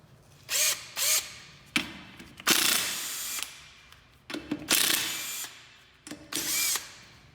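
A power tool tightens wheel nuts on a car wheel in a series of short, sharp bursts, some with a ratcheting quality, separated by brief pauses, close and fairly loud.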